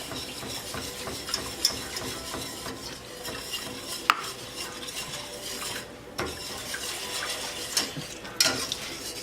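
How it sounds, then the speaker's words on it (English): Broccoli and cheese casserole mixture whisked in a bowl: steady scraping and swishing with occasional sharp clinks of utensil against the bowl, close and moderately loud, with no talk. "make sure we've got it really well whisked"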